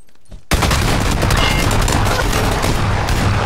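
A grenade explodes in the game PUBG, bursting in abruptly after a short quiet lead-in and then a sustained, loud, dense roar of blast and debris noise that holds without letting up.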